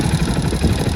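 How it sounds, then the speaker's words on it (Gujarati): A motorcycle engine runs with a steady, rumbling low throb, fairly close and unbroken over a single second, with no voices. "એક બાઈક નો અવાજ આવે છે"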